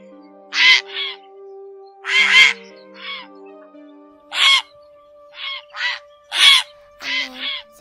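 Grey herons calling in a flock, a series of harsh, croaking caws, some close and loud, others fainter, spaced irregularly with short pauses between the calls.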